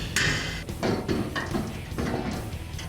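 A hammer strikes metal on a Mustang GT's four-link suspension in a garage, several sharp, uneven blows in quick succession, close and loud.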